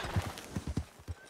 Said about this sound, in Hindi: यार एक घोड़ा पागल हो गया यार